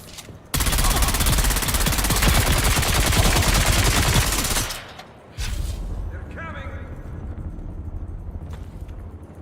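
Sustained machine gun fire in the video game Dune Awakening, loud and continuous for several seconds, then a short gap and a lower rumble with faint sweeping tones afterward.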